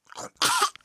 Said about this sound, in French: quand on tousse, on met sa main devant sa bouche